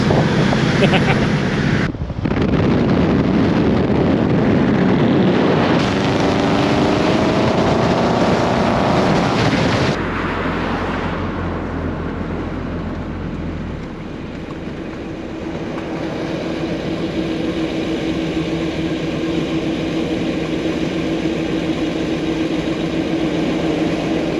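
A restored 1955 Chevrolet Bel Air engine runs while the car is driven, giving a loud, steady rumbling drone with broadband road and wind noise throughout and a deeper low throb partway through.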